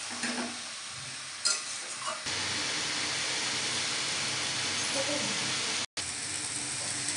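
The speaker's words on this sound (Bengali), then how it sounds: "এবার এটাকে শুধু নেড়ে চেড়ে রসটা নেড়ে দিতে হবে।" Taro greens stirred in a hot pan at home, giving a steady sizzling hiss with a brief scrape early on and a short cut near the end.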